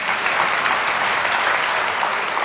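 A studio audience at a health talk show claps in steady, dense applause that holds at an even level from start to finish, with no voices over it.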